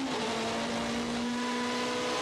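A touring race car from the 2015 WTCC Slovakiaring free practice session drives through corners. Its engine gives a loud, steady, even drone with a high whine running through it, heard alone.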